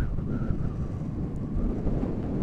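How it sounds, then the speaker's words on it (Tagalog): Strong wind buffets the microphone on a coastal stretch of Batangas, a continuous low rumbling roar with uneven gusty swells throughout and no other clear sounds. "Sa sobrang lakas ng hangin po dito."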